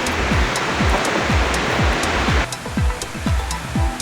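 McKenzie's Falls in the Grampians pours with a steady, broad rushing roar, joined by repeated low swooping thumps.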